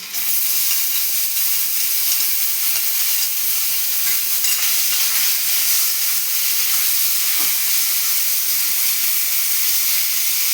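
Chopped tomato hits a hot oiled pan in a vegetarian tarka, setting off a loud, steady sizzle and hiss that holds evenly without a break, close up and alone.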